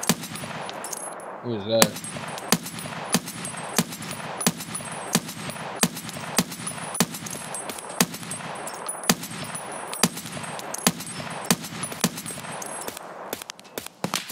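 Gunfire in a video game: rapid bursts and single shots crack out in a steady stream of sharp reports, fairly close, with brief talk over the shooting.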